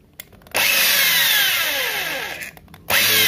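A power drill whines loudly at high speed for about two seconds, drilling out the rivet of a Hot Wheels toy car, then stops briefly and starts up again.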